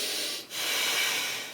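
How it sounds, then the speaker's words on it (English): A single deep breath drawn in through the nose or mouth, a close, breathy hiss that briefly pauses and then continues as a long, steady inhale. "Notice how you could take deep breaths in"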